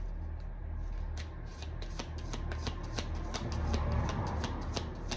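Tarot cards being shuffled by hand at close range: a dense run of quick riffling snaps and flutters, with a faint background hum and no voices.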